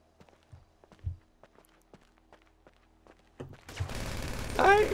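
Gunfire and footsteps in the video game GTA V Online: soft scattered footsteps and light taps, then a loud burst of rapid firing near the end, with a voice briefly heard.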